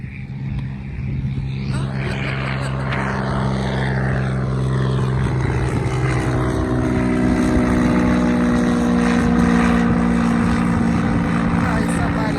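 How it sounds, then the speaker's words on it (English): A private propeller plane drones overhead on a sunny day at Davis Island, its steady engine hum rising and holding loud over outdoor ambience, with a person talking throughout. "Probably somebody in their private plane."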